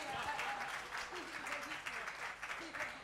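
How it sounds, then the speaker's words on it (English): A crowd claps steadily throughout, dense and sustained, with voices mingling underneath the applause. "A big round of applause for him."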